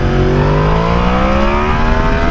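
An engine revs hard during a power wheelie, loud and close, with rising harmonic whine climbing steadily across the short burst.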